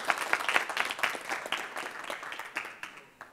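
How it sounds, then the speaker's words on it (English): Warm applause from an audience at a university talk welcoming a speaker to the floor, a steady wash of many hands clapping at moderate distance that thins toward the end. "The floor is yours. A warm applause."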